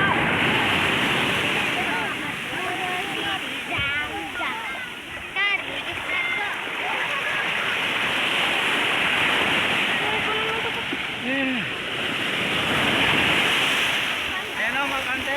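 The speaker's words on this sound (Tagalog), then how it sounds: "Sobrang lakas ng alon mga brother." Strong, rough sea waves crash and churn continuously near the microphone, with splashing water and wind noise, as a fishing net is about to be hauled in; someone talks over the surf.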